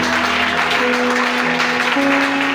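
Worshippers at a Sunday church service clap and acclaim Jesus in a steady wash of applause and crowd noise over sustained instrumental tones.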